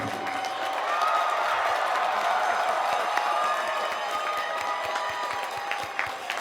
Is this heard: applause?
yes